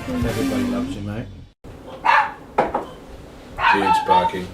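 A dog barks in a grooming salon during a live stream, a few sharp barks mixed with yips, close by and interleaved with people talking.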